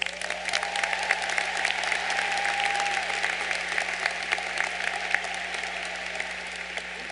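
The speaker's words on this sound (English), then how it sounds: "Please give our faculty a round of applause." A graduation ceremony audience applauds the faculty, sustained and even clapping from a large crowd, somewhat distant, with a faint whistle early on.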